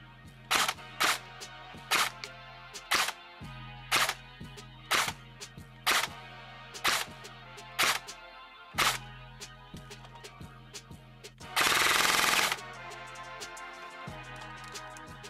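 A Ferfrans IAR airsoft electric rifle fires a string of sharp, evenly spaced single shots, then one short burst of rapid fire that sounds close and loud over a low steady background hum.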